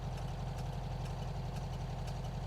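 The engine of a 1972 VW Bus fitted with a new 38mm carburetor runs at a steady, close idle with a continuous low rumble and a slight knocking texture throughout.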